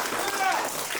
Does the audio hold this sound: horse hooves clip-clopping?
no